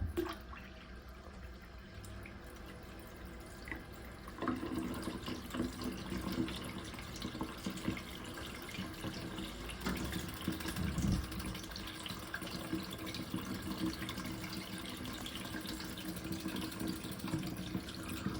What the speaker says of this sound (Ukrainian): Відкриваю воду.